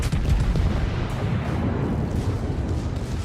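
Heavy naval main battery guns from the German battleship Friedrich der Große boom in World of Warships, a dense continuous roar of rumbling blasts filling the whole stretch without voices.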